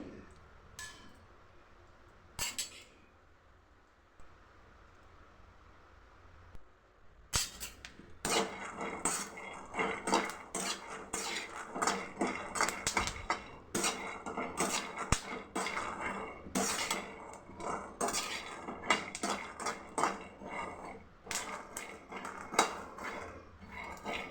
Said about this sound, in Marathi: छान हलवून भाजू एकसारखं हलवत राहायचं म्हणजे करपणार नाहीत शेंगदाणे